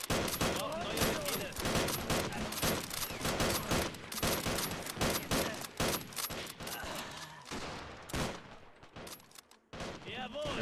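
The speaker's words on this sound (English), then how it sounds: "There's a machine gun." Sustained light machine gun fire from a German Revolution 1919 strategy game battle between Freikorps and Spartacists, a dense stream of rapid overlapping shots with scattered other gunfire, loud and continuous with a brief lull near the end.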